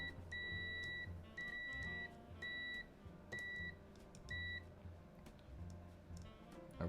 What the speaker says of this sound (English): You guys are gonna hear lots of beeping over the next half hour to try and figure out how all these switches come together